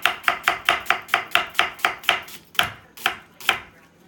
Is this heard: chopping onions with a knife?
yes